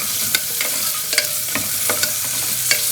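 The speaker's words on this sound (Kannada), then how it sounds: "ಈರುಳ್ಳಿ ಚೆನ್ನಾಗಿ ಗೋಲ್ಡಿಶ್ ಕಲರ್ ಆಗೋವರೆಗೂ ಫ್ರೈ ಮಾಡ್ಕೊಳ್ಬೇಕು" Onions fry in a pan over a continuous sizzle, punctuated by a series of sharp clinks and scrapes as a utensil stirs them at an irregular rhythm, close and fairly loud.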